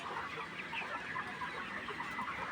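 A flock of 84-day-old broiler chickens, recently beak-trimmed, clucks and murmurs continuously in a poultry shed, a soft busy chatter of many birds with no talking.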